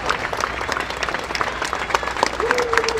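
A crowd applauds a band at an outdoor Fleet Week concert in New York City's Bryant Park, a dense, steady wash of clapping with a brief whistle rising near the end.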